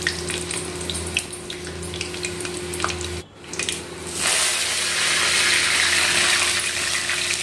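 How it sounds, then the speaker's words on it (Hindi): Mustard seeds, dry red chillies and curry leaves hit hot oil for a tadka over boiled sambhar, bursting into a loud, steady sizzle after a brief pause, with no talking. "इसे अच्छे से बॉईल करके इसमें मैं लगाऊंगी तड़का।"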